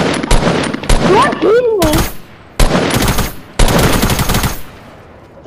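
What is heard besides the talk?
gunfire in Fortnite video game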